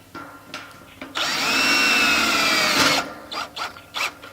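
A power driver whirs for about two seconds, sending a screw into a metal bracket on the wooden base of a Zimmerman high tunnel, with short handling knocks before and after, close and fairly loud.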